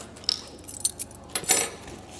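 Keys and coins jangle inside a small bag from a camera kit as it is shaken, giving a few bright metallic clinks and rattles close by, with a louder burst near the end.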